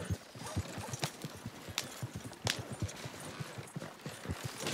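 Steady clip-clop of horse hooves walking at an even pace in the video game Red Dead Redemption 2, with occasional louder thumps over a faint ambient hiss.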